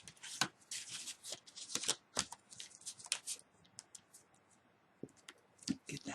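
Scrap paper is handled and slid into place during card making, giving crisp rustles, flicks and light taps in irregular bursts, close and soft, with no talking.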